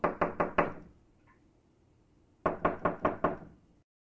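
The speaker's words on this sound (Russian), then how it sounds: "то услышал стук в дверь." Two bursts of sharp knocking on a door, four or five quick raps each, separated by a pause of quiet, close and distinct.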